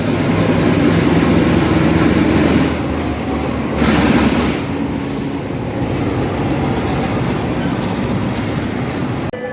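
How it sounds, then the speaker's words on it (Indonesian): A loud, steady rumble of a freight train rolling into a station on track 2, continuous rail noise filling the whole stretch, with a brief voice in the background. "ini ada kereta api paket ya, kereta api barang masuk di jalur 2"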